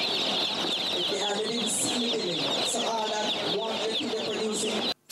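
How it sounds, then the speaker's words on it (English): Dense high-pitched peeping of many baby chicks at a chicken-rearing operation in Clarendon, Jamaica, a steady continuous chorus filling the whole stretch with lower clucking mixed in. "that's not just the sound of baby chicks."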